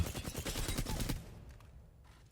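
Rapid automatic gunfire from the Reactive Flatline rifle in Apex Legends, a dense burst of closely spaced shots lasting about a second, loud and near, then fading into quieter game ambience.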